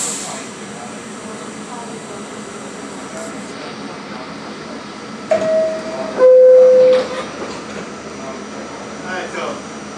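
A New York subway train of the 2, 3, 4, 5, B, Q and S lines runs with a constant rumbling hum inside the car, two electronic chime tones sound midway, and voices are heard over the noise.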